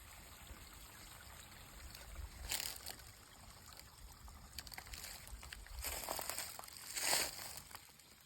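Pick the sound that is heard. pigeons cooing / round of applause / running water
running water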